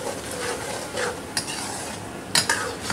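Chicken with ground red chili being stirred in a pot over high heat, a soft scraping sizzle with a few sharp spoon knocks against the metal, close and without speech.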